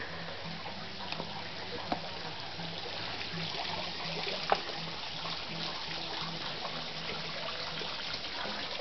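Water trickles and splashes steadily from a hose or can in an organic greenhouse, a soft continuous wash with a few small knocks and clicks.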